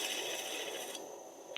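A tool trims and cleans the sides of a leather-hard clay pot with a steady, close, dry rasping scrape. The scrape is continuous and fairly quiet, and it fades slightly toward the end.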